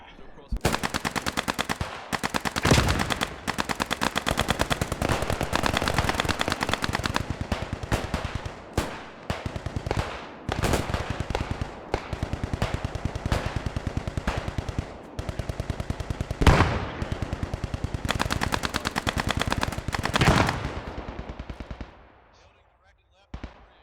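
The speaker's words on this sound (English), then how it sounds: "Got a feel for that BAR missing all those shots." Rapid bursts of BAR automatic rifle fire in a World War II video game set at Arnhem, loud and repeated in short volleys with sharp cracks, mixed with other battlefield gunfire and voices talking over it.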